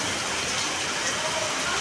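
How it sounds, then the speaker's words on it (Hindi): Heavy monsoon rain falls steadily outside a home, a dense, even hiss of drops with no breaks and no voices over it. "इतनी अच्छी बारिश हो रही है।"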